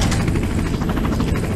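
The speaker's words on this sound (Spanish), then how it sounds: "El helicóptero." A helicopter in the Resident Evil 4 VR game thunders close and loud, its rotor chop beating in a fast, steady rhythm throughout.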